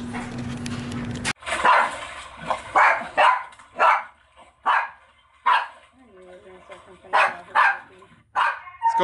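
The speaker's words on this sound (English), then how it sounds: "Okay, you guys love our dog." A pet dog barks repeatedly at close range, a series of loud, sharp barks and yips in an irregular rhythm after a brief opening of other noise.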